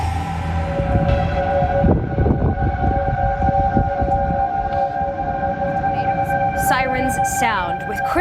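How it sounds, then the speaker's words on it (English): Tornado warning sirens wail across Iowa during a historic Midwest outbreak, long sustained tones rising and falling loudly over a background of talk, with a second siren pitch sliding in near the end. "Sirens sound with Christmas lights up in Iowa"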